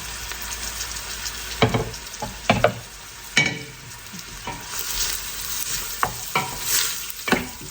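Ingredients for a pot-made bak chang sticky rice dish sizzle in a hot pot while a utensil scrapes and stirs them in repeated strokes, close up, with no talking.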